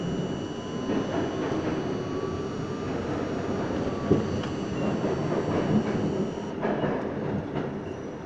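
A New York City R42 subway car on the Brooklyn-bound Z train at Marcy Avenue rolling along, a steady loud rumble with rhythmic clacks and a faint squeal of wheels, heard from inside the car.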